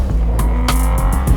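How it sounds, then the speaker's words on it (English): Aston Martin Dreadnought military-grade truck with a V12 engine driving, a loud steady engine drone with a few sharp bursts of hiss and noise over it. "This is a massive military-grade zombie-proof truck powered"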